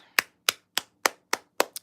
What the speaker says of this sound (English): Round of applause for the moderators.